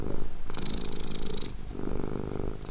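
A cat purrs close up, a loud, rhythmic rumbling with alternating inhale and exhale phases, steady and uninterrupted, with no voices.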